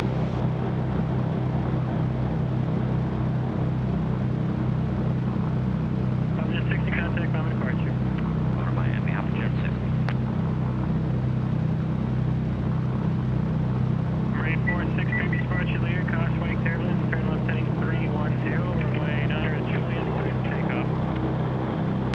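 Twin engines of a Cessna 310 drone steadily and loudly on the ground, a constant heavy hum that never lets up, with faint crackly radio voices breaking through in two stretches.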